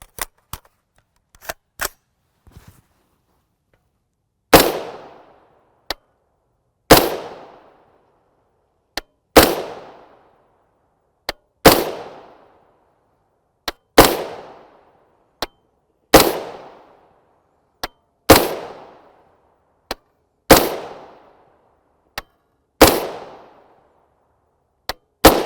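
Shots from a 10.5 inch Palmetto State Armory AR pistol upper in 300 AAC Blackout, firing 145gr FMJ tracer rounds through a 3-port Yankee Hill muzzle brake: about nine loud, sharp reports at a steady pace, each trailing off in a ringing echo.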